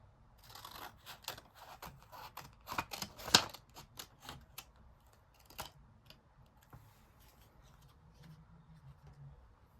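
Scissors cutting through two pieces of cardstock for a straw paper plane craft, a faint run of crisp snips and clicks that is denser early on, then sparser, with no talking.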